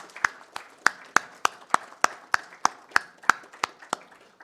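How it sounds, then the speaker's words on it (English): Sparse applause from a small audience at an engineers' award function, about fifteen distinct claps in a slow, steady rhythm, fairly close and moderately quiet, with no talking. "Ladies and gentlemen, a round of applause,"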